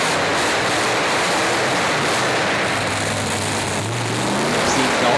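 A monster truck called the Predator roars at a Monster Truck Nationals event in Corbin, Kentucky, its engine a loud, steady, dense rumble that runs without a break and swells slightly near the end.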